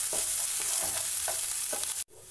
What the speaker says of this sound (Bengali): এখন পেঁয়াজ কুচিগুলিকে ভালোভাবে নাড়াচাড়া করে ভেজে নিতে হবে